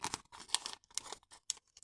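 A sticker being peeled off a paper surprise packet, producing short crinkly tearing bursts in close, quiet succession with brief pauses between them.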